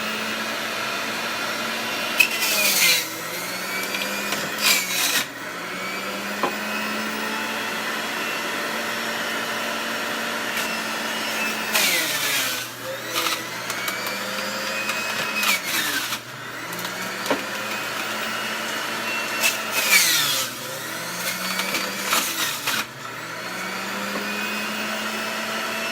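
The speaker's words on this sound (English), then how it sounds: "I'm going to blend. It's going to be loud for a minute." A blender running loud in bursts, its motor whirring up and dropping back repeatedly in pulses across the clip, close by with no talking.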